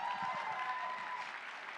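Crowd applause for a winning bidder at a charity pet auction, a steady wash of many hands clapping at moderate, slightly distant level with faint voices mixed in, holding evenly throughout.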